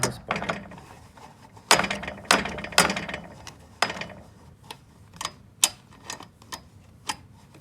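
Tool tightening a nut and Allen screw on a bike trainer during installation, a series of sharp metallic ratcheting clicks and taps in uneven bursts, close and fairly loud, no talk.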